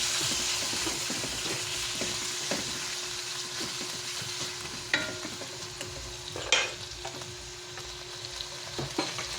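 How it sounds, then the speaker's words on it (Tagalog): Cubed pork for adobo sizzles in a pan while a spoon stirs it, soft steady frying hiss broken by scattered clinks and scrapes, a couple of louder knocks against the pan, no speech. "atin itong haluin"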